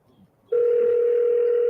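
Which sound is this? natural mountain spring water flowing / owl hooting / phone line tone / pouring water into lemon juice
phone line tone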